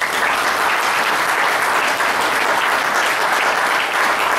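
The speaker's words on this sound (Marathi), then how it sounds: "आपण पूजास्थान टीमसाठी जोरदार टाळ्या वाजवायच्या आहेत" Loud, steady applause from an audience honouring the worship-place team at a Buddhist gathering, sustained dense clapping filling the whole stretch with no break.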